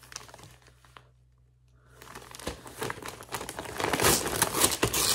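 Plastic packaging around a toilet paper gift crinkles and crackles as it is handled, starting faint after a brief quiet gap and growing into loud, close, continuous crumpling.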